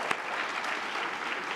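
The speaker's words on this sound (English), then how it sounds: "it deserves applause" Brief burst of audience applause for the Mandela Washington Fellows at a formal ceremony, a dense, even clapping wash from a seated crowd without speech.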